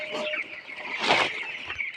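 Broiler chickens on a poultry farm give short, close clucks, with a brief burst of wing flapping in the middle.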